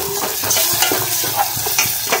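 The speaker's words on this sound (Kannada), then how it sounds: "ಉಳ್ಳಾಗಡ್ಡೆ ಹಸಿ ವಾಸನೆ ಹೋಗೋರ್ಗು ಎಲ್ಲ ಚೆನ್ನಾಗಿ ಫ್ರೈ ಮಾಡಬೇಕು" Onions sizzle steadily in a hot pan, close and loud, while a spoon stirs and scrapes through them in irregular clinks and shuffles over the constant frying hiss.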